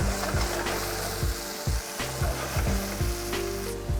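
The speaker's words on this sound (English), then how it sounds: "You're going to let the meat brown, and you're going to let the onions soften." Meat browns and onions fry in a pan, a loud continuous sizzle with periodic scraping stirs, close up and alone without talk.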